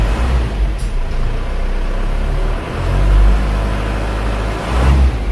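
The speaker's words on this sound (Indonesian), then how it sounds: "Suara mesinnya halus banget ya" Isuzu Panther diesel engine idling steadily after a fresh start, a continuous low rumble with a slight swell near the middle, close to the microphone with no talking.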